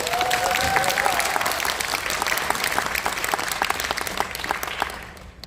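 Audience members at a policy forum on fast-tracking reconstruction of first-generation new towns applaud after a councillor's speech, with sustained hall clapping that tapers off and fades out near the end.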